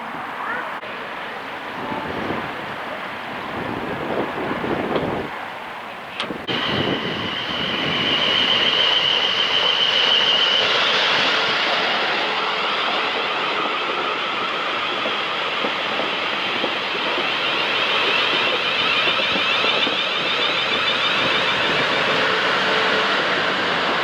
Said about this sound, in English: the excitement of the train coming in at Hamble railway station